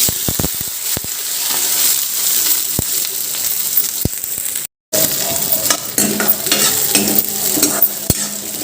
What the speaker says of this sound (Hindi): डालबो फोरन में जीरा सबसे पहली उसके बाद मिर्चा प्याज